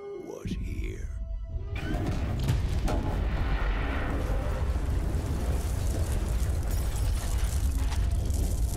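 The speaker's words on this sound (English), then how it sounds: "Oh, you mean the big damn explosion that lit up the sky?" A large explosion erupts in the video game Borderlands 3, a sharp blast settling into a sustained heavy rumble with mechanical clatter that fills the scene, loud and close after a brief opening of voices.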